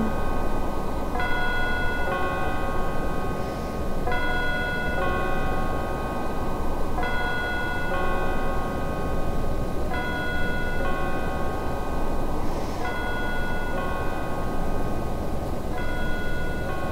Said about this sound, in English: I like the tolling bells in the background.